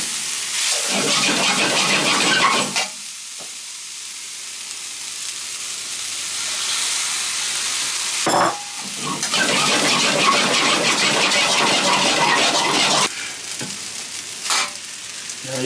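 Rice and chicken fry in a hot pan for homemade fried rice, giving a loud, steady sizzle broken by brief stirring scrapes and bursts, with no talking.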